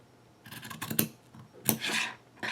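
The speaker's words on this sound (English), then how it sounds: "Now I'm going to just trim here." Scissors trim through quilt blocks made of fabric in a few quick bursts of snipping, crisp close cuts with short pauses between them and no talking.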